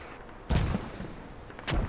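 Two deep, booming thumps about a second apart simulate an artillery barrage during an outdoor airsoft battle, each followed by a brief rumbling tail over quiet background.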